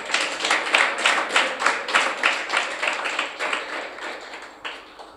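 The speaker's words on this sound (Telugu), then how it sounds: "చప్పట్లు కొట్టు." A congregation claps together in rhythm during a church sermon, steady unison beats about four or five per second that gradually soften toward the end, with no talking over them.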